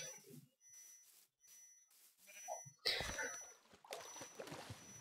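Minecraft sheep bleat a few times, quiet and clipped, mixed with other game sounds, followed by a louder burst of busy noise in the second half.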